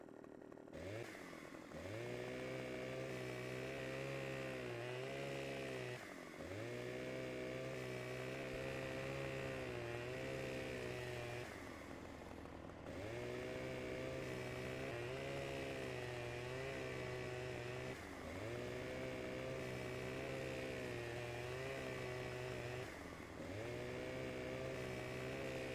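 Chainsaw cutting trees in Farming Simulator 15, a continuous loud engine whine with revving surges and brief dips as it bites through wood, running throughout.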